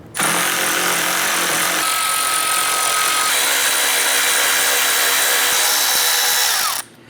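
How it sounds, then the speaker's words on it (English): A power tool with a 10mm socket runs continuously for several seconds, removing grille screws from a 2011-2018 Ram 1500 pickup. The whine is loud, close and steady, with a slight shift in pitch partway through before it stops abruptly. "We're gonna remove our 4 10mm screws across the top of our grill using a"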